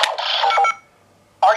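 A Power Rangers Beast Morphers Beast-X morpher toy plays short electronic morph sounds, a bright burst followed by a pause and then another sharp tone starting, close up.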